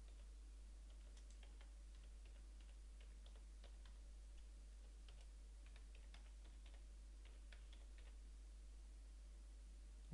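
Computer keyboard used to type an email address, giving a quiet, steady run of light, irregular key clicks against a low hum, with no one talking.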